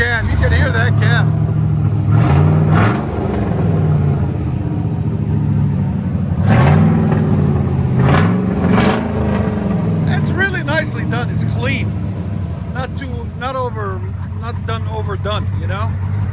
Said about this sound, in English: Straight pipe true duals with dumps.